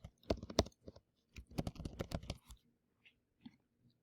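Quick, quiet clicks of typing on a computer keyboard as an answer is entered, two clustered bursts of keystrokes followed by a few sparse taps.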